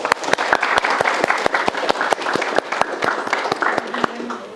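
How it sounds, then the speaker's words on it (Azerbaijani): Loud, dense applause from an audience at an Azerbaijani talk-show interview, sustained steadily for several seconds with sharp individual claps standing out in the crowd's clapping. "Allah, alqışlayaq."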